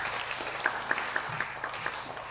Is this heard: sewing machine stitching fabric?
no